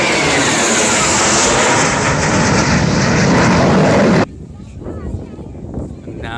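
Jet airplane roaring loudly overhead during a flying display at the Farnborough Airshow, a dense sustained blast that cuts off abruptly, leaving quieter crowd murmur and distant rumble.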